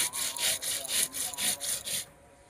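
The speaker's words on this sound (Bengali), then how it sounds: "এই যে আমরা ডাবটাকে কেটে নিয়েছি" A knife cuts open a green coconut for a coconut prawn dish in six quick, rhythmic rasping strokes, close and fairly loud, before stopping abruptly.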